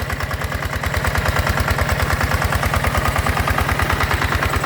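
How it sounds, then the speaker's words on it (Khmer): A small hybrid engine drives a water pump, running close and loud with a steady rapid chugging pulse that holds constant throughout, no voices over it. "អានេះម៉ាស៊ីនកូនកាត់ណា"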